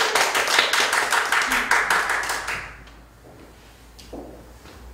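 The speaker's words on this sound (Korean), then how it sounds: "박수" Applause at a church charity concert, a burst of clapping hands that fades out after a few seconds into quiet room noise, with a faint tap or two afterward.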